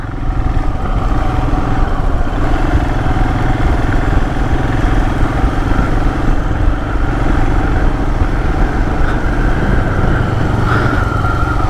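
A Royal Enfield Himalayan motorcycle rides along a jungle trail in Joypur Forest, its single-cylinder engine thumping in a steady, loud, close drone with a slight rise in revs near the end and no talk.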